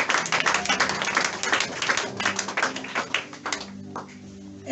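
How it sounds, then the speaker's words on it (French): A church congregation at a Sunday worship service claps in acclaim, a dense, continuous run of hand claps with rhythmic accents that thin out near the end. "Acclame le roi de roi."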